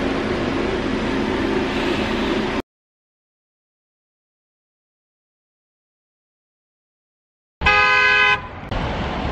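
A car horn blares loudly in one sustained honk after a stretch of silence, with steady road noise before and after.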